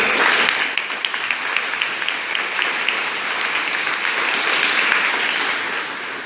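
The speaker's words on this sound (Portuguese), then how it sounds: "Vamos aplaudir a palavra de Deus." Church congregation applauding steadily after a scripture reading, a dense, even wash of clapping that holds near and full for several seconds before easing slightly at the end.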